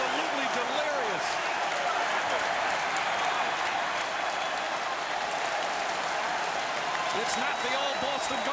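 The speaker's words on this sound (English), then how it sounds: "This crowd is absolutely delirious." A basketball arena crowd roars and applauds continuously during a Celtics–Nets playoff game, a dense, loud, sustained wall of cheering with scattered shouts and no break throughout.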